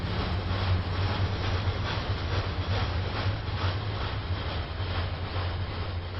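Rhaetian Railway train rolling along the rails on the Arosa line in Train Sim World 2, a steady low rumble with a continuous broadband hum and faint rhythmic pulses, constant and fairly loud throughout with no talk.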